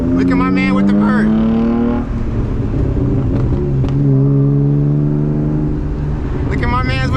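A manual BMW E36 328i with a loud exhaust drones through a night drive, its engine note rising and settling beneath a voice heard at the start and end.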